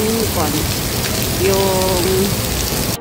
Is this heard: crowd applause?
no